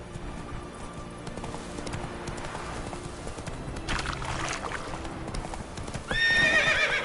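Hoofbeats from Roach, the horse in the video game Witcher 3, galloping in a steady clip-clop rhythm at close range, with a whinny near the end as the sound grows louder.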